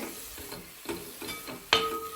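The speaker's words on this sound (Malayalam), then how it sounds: "ഇതിനകത്ത് ഞാൻ ആദ്യം കടുക് പൊട്ടിച്ചു പിന്നെ വലിയുള്ളി വെളുത്തുള്ളി ഇഞ്ചി പച്ചമുളക്" Mustard seeds, onion, garlic, ginger and green chilli frying in a pan, giving a continuous close sizzle with a few soft stirring strokes and a sharp clink near the end.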